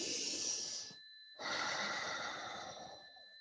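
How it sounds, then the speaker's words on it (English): A group inhales deeply together and then exhales in a long, audible sigh, the breaths soft and airy with a brief pause between them and no talking. "So I would like to invite you all to take a deep breath with me here right"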